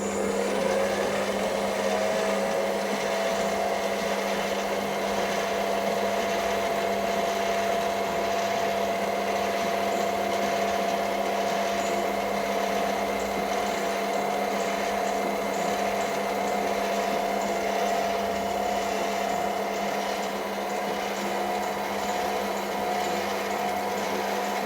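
A metal lathe takes a cut on a metal workpiece with a cold chisel mounted as the cutting tool, giving a steady, loud, whining hum over a continuous grinding rasp that holds throughout with no talking.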